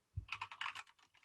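A computer keyboard clacks in a quick burst of about a dozen close, light keystrokes, typing a short phrase with no voices.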